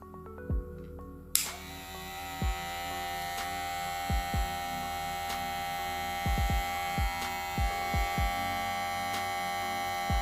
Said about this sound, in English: It's not a fast clipper.